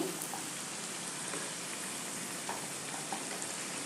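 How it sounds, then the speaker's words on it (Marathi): Raw potato snack frying in a pan gives a steady, soft, close sizzle and crackle of hot oil, with a few faint pops and no talking. "हे बघा असं छान सोनेरी रंग येईपर्यंत याला तळायचं आहे"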